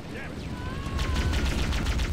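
Rapid automatic gunfire from a firefight in Halo: The Master Chief Collection, a steady rattling stream of shots that thickens in the second half amid a busy battle.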